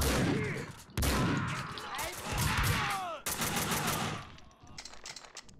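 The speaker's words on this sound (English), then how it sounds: "Someone must have heard the gunfire." Automatic gunfire from the Max Payne 2 video game on Dead on Arrival difficulty, with loud sustained bursts and sharp cracks, a brief pause and then fresh volleys, with indistinct voices mixed in.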